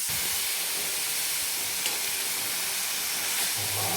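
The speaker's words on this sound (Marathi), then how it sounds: "तर अशा पद्धतीने आपल्याला तेल वगैरे काहीच न टाकता भाजून घ्यायचे आहे।" Cabbage chutney ingredients dry-roasting in a pan with no oil, giving a steady soft hiss and faint sizzle throughout, with a slight stirring scrape near the end.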